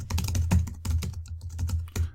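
A computer keyboard clacks as a blog post is typed, a fast and loud stream of close keystrokes with brief gaps between runs.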